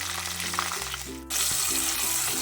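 Ginger garlic paste fries in oil in a clay pot as a steady, bright sizzling hiss, with a sustained low tonal hum running underneath and no one speaking.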